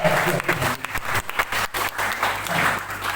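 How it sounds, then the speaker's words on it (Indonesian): Church congregation at a revival service claps together, a loud, somewhat uneven burst of applause lasting a few seconds with voices mixed in. "Beri tepuk tangan yang baik."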